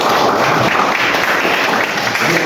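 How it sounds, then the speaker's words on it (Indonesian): A classroom group applauds a question in a steady, dense wash of clapping that runs loud and unbroken the whole time. "Kasih tepuk tangan dulu"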